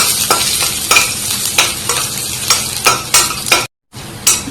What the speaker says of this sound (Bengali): এখন রসুনটা ভালোভাবে ভেজে নেব।